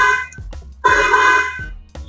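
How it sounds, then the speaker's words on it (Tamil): Toy horn on a kids' ride-on car, sounded as two short beeps followed by a longer steady honk and a final brief toot, close and fairly loud with no talk. "இதுல பாத்தீங்கன்னா ஹார்ன் கொடுத்துருக்காங்க"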